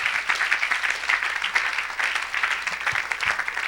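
A church congregation applauds in praise of Jesus, dense rapid clapping sustained evenly for a few seconds, fairly close and filling the room, with no talking over it.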